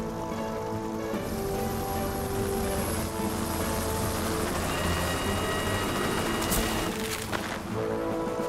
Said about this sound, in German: Aber wir brauchen Unterstützung durch den Hubschrauber.